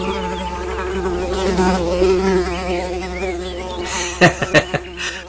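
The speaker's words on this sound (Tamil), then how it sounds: "அது தேனீக்களின் ஓசையிலிருந்து வரும் ரீங்காரம்" Bees hum in a steady, close drone with wavering pitch, joined near the end by several sharp, loud knocks or strikes, set within a Tamil devotional drama about Lord Jagannath.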